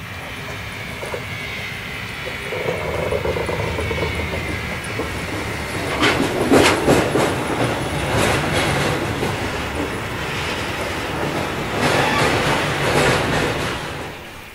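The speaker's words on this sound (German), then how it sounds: "Die Lok schiebt den Zug von hier aus in das Anschlussgleis" A steam locomotive pushes a freight train onto a factory siding. Wheels clack rhythmically over rail joints, with heavy rolling rumble and bursts of mechanical rattle, fairly close and steady throughout.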